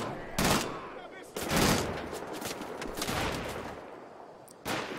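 Gunfire in the video game Wolfenstein: The Old Blood, a few loud sharp bursts spaced apart with a duller rumble of game noise between them.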